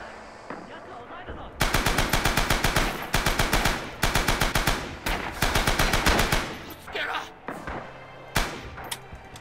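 Rapid bursts of machine gun fire from the Rising Storm video game, loud and repeated in several long volleys with brief pauses between them, mixed with thuds and a voice talking over the shooting.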